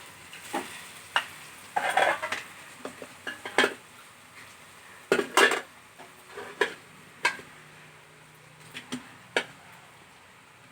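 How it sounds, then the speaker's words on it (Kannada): Cooked rice being mixed in a metal pan for chitranna, with intermittent scraping and clinking of a spoon against the pan, close and fairly quiet, without talk. "ಈಗ ಅನ್ನ ಹಾಕಿ ಕಲಿಸ್ಕೊಬೇಕು"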